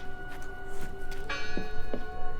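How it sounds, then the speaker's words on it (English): Bell tolling in the horror video game Draugen, a couple of faint strikes ringing out at a distance over a steady tonal ambient drone. "I heard the bell."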